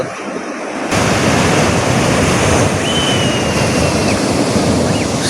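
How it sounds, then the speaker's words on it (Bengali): Rough sea surf breaking on the beach at Digha, a continuous loud roar of crashing waves with wind noise, no talk. "উত্তাল সমুদ্র"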